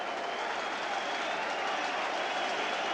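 Football crowd at Millwall v Everton in 1988/89, heard as a steady, even roar of cheering and clapping across the stadium, distant and continuous.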